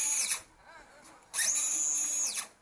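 Red Cat Ground Pounder RC truck pulling a sled, its motor whining in two high bursts, the second longer and steadier, as the gear strips.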